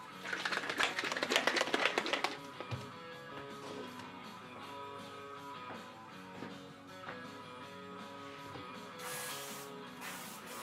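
Airbrush spraying satin varnish onto a painted figure, a hissing burst at the start that gives way to quieter background hum and faint clicks.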